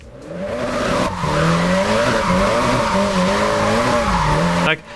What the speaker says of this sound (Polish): Możecie tak mniej więcej z tego gameplayu wywnioskować, jak się driftuje.